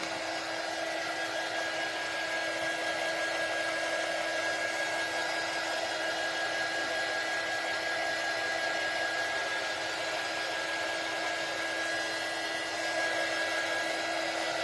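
A hair dryer runs at a steady, continuous blow for the whole stretch, a constant airy whoosh with a fixed motor whine, close and fairly loud, with no voices over it.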